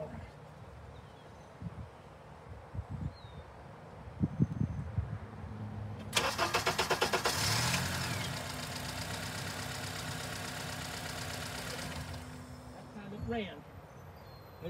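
Honda engine cranking with the exhaust cam sensor disconnected, a loud churning burst that starts abruptly after quiet clicks and handling noises, runs steadily for about six seconds, then cuts off.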